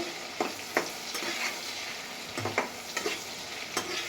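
Eggplant pieces sizzle in hot oil in a pan for a pickle, with a steady frying hiss broken by several scraping stirs of a spatula, close and clear with no talking.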